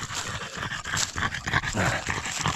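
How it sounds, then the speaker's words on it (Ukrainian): Dogs pant heavily in a forest during a late-July mushroom-gathering walk, with quick, rough breaths and faint whimpers. The sound is close and continuous but quiet, with no talking. "Запихались собаки, диви, які гарні, так?"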